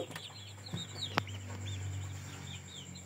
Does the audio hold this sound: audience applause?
no